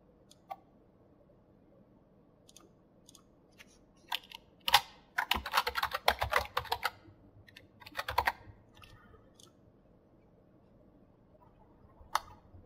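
Keys on a computer keyboard tapped in scattered clicks, then a denser burst of fast typing in the middle before trailing off to a few isolated taps, close and fairly quiet with no talking.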